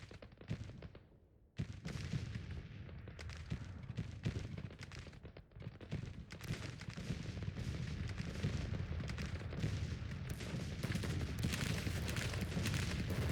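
Artillery and massed gunfire on a Grand Tactician Civil War battlefield, a dense rumbling barrage of booms and crackling shots that thickens steadily, distant but continuous and growing louder toward the end, with no talk.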